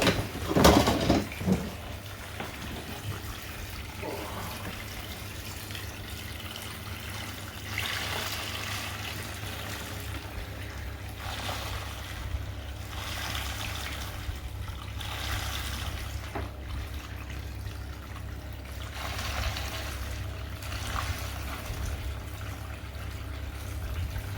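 Dirty recirculated water poured into a gold cube prospecting sluice, a soft steady trickle and wash running continuously after a brief louder splash at the start.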